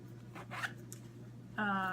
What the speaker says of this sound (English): They zip around, it zips up around.